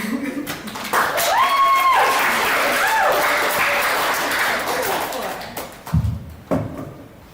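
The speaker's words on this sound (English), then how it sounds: "You should just keep clapping." Sustained applause from a group at a poetry reading, dense clapping that continues for several seconds with a few brief tonal sounds over it, then tapers off.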